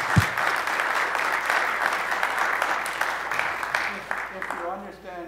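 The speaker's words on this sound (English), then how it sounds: "Give a warm applause to our" An audience at a conference lecture on the legacy of 1848 at Wartburg College, Iowa, claps warmly and steadily for about five seconds, with the applause thinning toward the end as a voice begins speaking.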